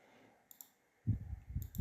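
A computer mouse gives a quick double click, two sharp light taps close together, soon followed by a low rumbling thump.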